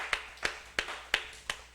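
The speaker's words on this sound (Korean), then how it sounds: "오늘도 귀한 특송으로 은혜를 끼쳐주신 우리 특송팀에게 다시 한번 박수 보내드리겠습니다" During a Wednesday church service, the congregation applauds the special song team with five slow, evenly spaced claps. They are faint and a little distant, like unison rhythmic clapping.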